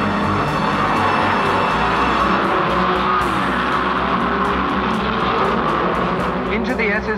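Shelby Cobra and Ferrari race cars roar away together at the start of a Le Mans race, a dense, continuous engine din that stays loud and steady throughout.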